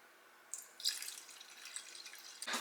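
Water pours into a pot holding tahini, agave syrup and a pinch of salt, a soft splashing stream that starts and stops in a couple of short bursts up close, with no talk.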